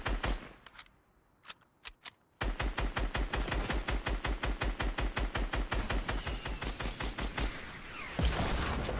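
Rapid automatic gunfire in the video game Fortnite, a few isolated shots then a sustained fast burst of evenly spaced rounds lasting several seconds, loud and close, ending in a louder impact.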